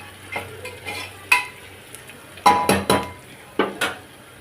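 Gongura mutton curry with tomatoes being stirred in a pot: several distinct metallic scrapes and clanks of a spoon against the pan over a soft background sizzle.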